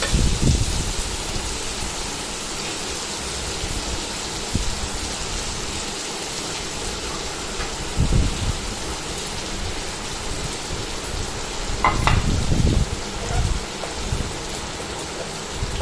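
Chopped onions for chicken kosha frying in a pan, a steady broadband sizzle that holds throughout with a few louder crackling bursts, no talk.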